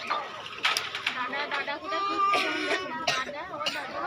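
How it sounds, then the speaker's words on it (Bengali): Pigeons at the Dankuni pet market coo and call in soft, repeated bursts amid bustling market noise, with people talking nearby. "ওইখানে পায়রা আছে, দেখে নিন"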